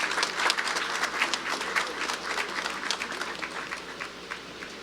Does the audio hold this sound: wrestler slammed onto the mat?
no